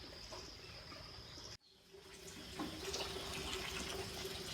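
Water runs steadily from a tap while a water gallon is cleaned for broiler chicks, a continuous hissing flow that cuts off briefly, then resumes with splashing as it fills.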